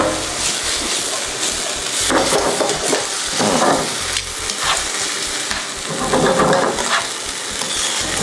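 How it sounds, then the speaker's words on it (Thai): Mexican-spiced linguine sauce with ham stir-fried in a pan until the stock cooks down, a loud close sizzle that swells in bursts as the contents are tossed and stirred, with no voices. "ผมจะผัดให้ น้ำสต๊อก แห้งเลย"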